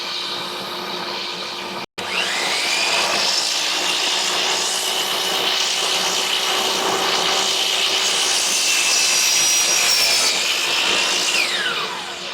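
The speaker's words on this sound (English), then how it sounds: "We're going to then use this tooling to precisely put it underneath and precisely drill the hole." A drill bores a hole through the hull of an Old Town boat, guided by tooling, while Freedom Launcher retractable wheels are installed. The whine is loud, close and continuous, broken only by a brief stop early on.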